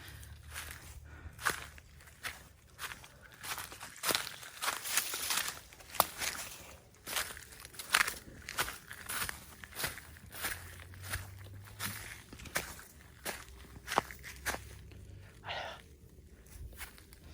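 Footsteps crunch and rustle through dry forest undergrowth in a steady walking rhythm, close and fairly loud, with twigs and leaves snapping under each step and brief pauses between strides.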